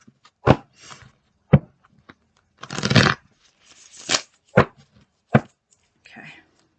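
Tarot cards are shuffled in short bursts, with several sharp riffling snaps and one longer, denser flurry of card noise, close and fairly loud, separated by brief pauses of quiet.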